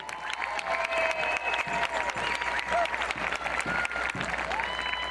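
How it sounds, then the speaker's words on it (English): Large outdoor crowd at a 2021 Santa Fe High School graduation ceremony applauding the valedictorian, a dense, steady wash of clapping with some cheering mixed in throughout. "One more big round of applause for Anna Wexler"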